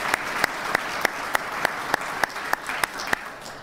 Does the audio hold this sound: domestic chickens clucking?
no